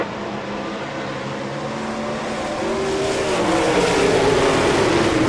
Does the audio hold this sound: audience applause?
no